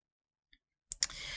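A single soft mouse click lands in near silence while someone opens an app launcher on a computer, followed moments later by a rising wash of broadband noise.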